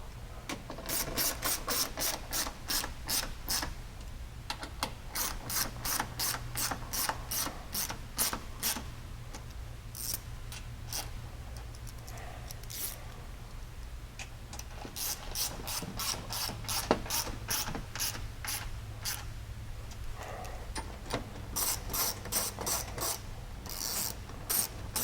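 Ratchet tightening cup washers and clamps while fitting UHMW skid plates on a 2019 Polaris Ranger 1000 Crew, rapid clicking runs repeating in bursts with short pauses, close and clear, no talk.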